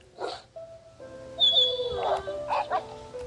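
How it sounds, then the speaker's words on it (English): A few dog barks and yips in the video game Minecraft ring out in short bursts over a faint steady background hum, fairly close and with no one talking. "obviously we hear a few woof woofs from the dogs around here"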